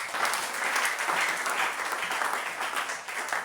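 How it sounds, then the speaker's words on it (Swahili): A church congregation breaks into sustained applause, many hands clapping together in a dense, even roar that holds steady from start to finish without fading. "Tumchapie Yesu makofi."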